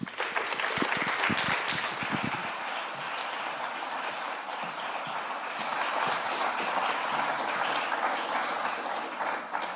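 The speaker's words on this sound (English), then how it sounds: "Join me in giving Carmen a warm welcome of applause." Steady applause from a conference audience greeting a keynote speaker fills the room, dense and continuous, with a few sharper individual claps near the start.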